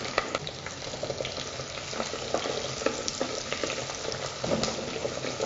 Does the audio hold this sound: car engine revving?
no